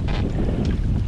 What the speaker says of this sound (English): it's a little blustery and choppy here now that we got out here